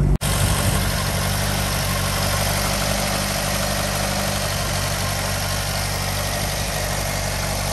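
A 1983 VW Golf GTI 1.8 engine idles slightly high, steadily and close, a constant low rumble with a faint high whine, no one speaking.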